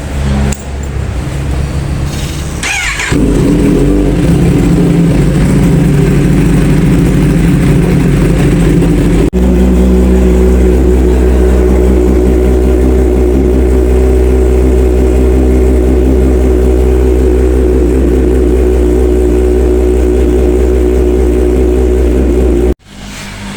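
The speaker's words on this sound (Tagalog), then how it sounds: "Pero yung CRT exhaust natin, i-sound test natin siya." A loud Kawasaki ZX-10R sport motorcycle with an aftermarket SC Project exhaust revs up hard, then holds a deep, steady roar close by before cutting off abruptly.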